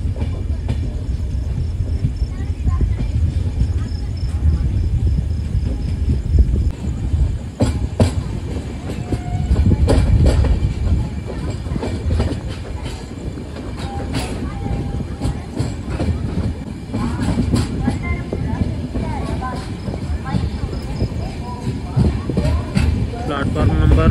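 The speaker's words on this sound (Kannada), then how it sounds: "ಟ್ರೈನ್ ಡಿಪಾರ್ಟ್ ಆಯಿತು ಹುಬ್ಬಳ್ಳಿ ಜಂಕ್ಷನ್ ರೈಲ್ವೆ ಸ್ಟೇಷನಿಂದ." Superfast express train no. 20654 from Belagavi to Bengaluru departs Hubballi Junction railway station, with loud, sustained rumbling, rhythmic clickety-clack of wagons and a faint horn, while someone talks over the noise.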